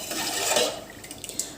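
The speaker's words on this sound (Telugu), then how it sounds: "సాల్ట్ వేసేసుకొని ఒకసారి ఇలా తిప్పుకోవాలి" Rice and water stirred in a pot with salt added, for a sweet jaggery rice dish: a soft, continuous swishing and scraping of grains against the metal, fairly close and quiet, with no talk.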